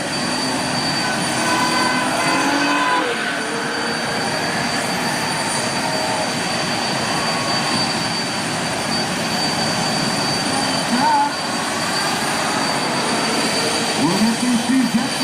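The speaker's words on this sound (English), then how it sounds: "We'll get these two jet cars" Jet cars' engines run at a drag race as a constant loud roar and rushing whine that fills the scene, steady throughout with faint crowd sounds beneath.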